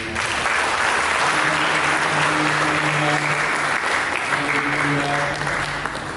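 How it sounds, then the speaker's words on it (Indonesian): Loud, sustained applause from a large church congregation fills the room, steady clapping for several seconds with a voice faintly underneath. "Mari kita menyambut firman Allah ini dengan tepuk tangan yang meriah."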